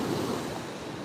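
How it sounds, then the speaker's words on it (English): Ocean waves breaking on the shore at dawn in Maui, a brief broad rushing wash of surf with soft wind noise, fairly close and without any voices. "you get to see the beautiful waves and such and listen to it"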